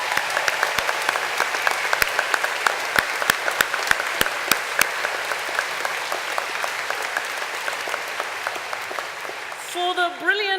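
Sustained audience applause at a university graduation ceremony for mature graduates, a dense steady patter of many hands with a few sharper nearby claps, fading at the end as a voice begins.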